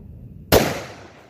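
A single sharp gunshot fires a hollow point round outdoors, a sudden loud crack that rings off into a fading tail with no one speaking.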